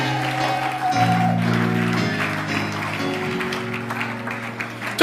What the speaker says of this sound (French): Acclame fortement pour le Seigneur.